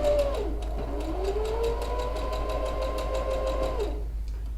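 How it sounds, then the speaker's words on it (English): A sewing machine runs continuously while sewing a dart on fabric, its motor whine rising and holding steady with rapid needle ticks before winding down near the end, close and clear with no talk. "we'll keep sewing off the edge of the fabric"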